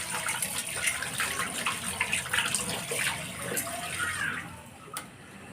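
Tap water runs steadily while pabda fish are washed beneath it, a close, continuous splashing gush with small irregular spatters.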